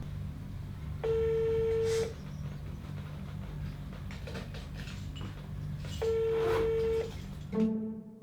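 Unanswered telephone call ringing twice, each ring a steady electronic tone about a second long with a long silent gap between, clear and fairly loud, ending with a brief click.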